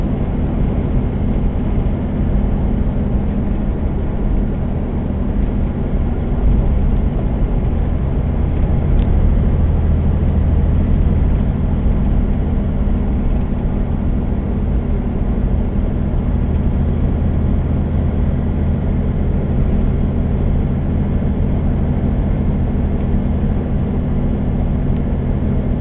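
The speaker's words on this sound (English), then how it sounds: "we'll go ahead and switch over to some daytime driving, give you a couple of minutes of that, and you can kind of hear what the audio sounds like" Inside a car driving in daytime, picked up by a Vatenic dash cam: a continuous, even road and engine rumble with a steady low hum, no voices and no distinct events throughout.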